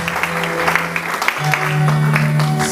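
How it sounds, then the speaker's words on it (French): An audience at a church family conference applauds steadily, with dense clapping throughout and a sustained tone and a voice or two over it. "Nous applaudissons pour le prophète Isaac."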